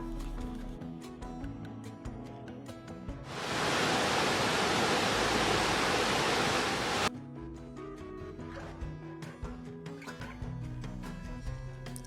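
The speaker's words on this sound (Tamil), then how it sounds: "இந்த வாட்டர் ஃபால்ஸ் இந்த அருவிகள் பாஞ்சி வர்றது" Penllergare's artificial waterfall in Swansea pours steadily, a loud broadband rush that cuts in suddenly for a few seconds between stretches of background music, then stops abruptly.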